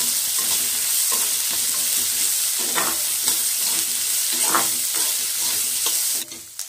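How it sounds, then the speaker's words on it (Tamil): Chopped onion and green chilies sautéing in a pan while aloo bonda filling is made: a steady close sizzle with repeated stirring scrapes, continuous and loud, cutting off near the end. "இப்போ இது நல்லா வதங்கணுங்க."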